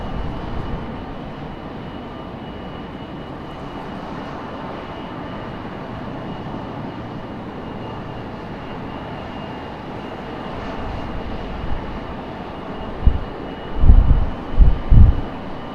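An airliner departing Raleigh-Durham International Airport for JFK gives off a steady, moderately loud jet rumble that swells toward the end, where several heavy low bumps and gusts stand out.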